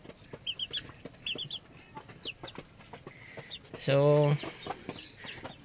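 Native and brownie chickens clucking in a backyard after a typhoon in Samar, with a brief louder squawk near the end; a person speaks briefly nearby.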